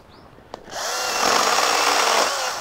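A compact Makita handheld chainsaw revs up and cuts steadily through wood, a loud continuous buzzing whine that starts after a brief click and holds for a couple of seconds, close by with no talk.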